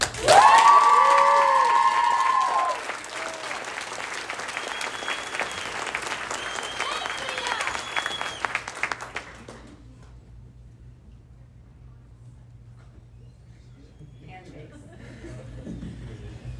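Banquet audience applauding and cheering for a girls' team award winner, loud at first with a bright burst of shouts, then a steady clapping that fades out after about nine seconds into quiet room noise.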